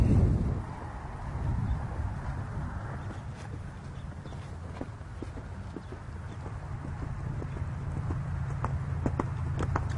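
A horse's hooves beat in a steady, close rhythm as it gallops over a cross-country jumping course outdoors, with constant low rumble and wind behind the footfalls.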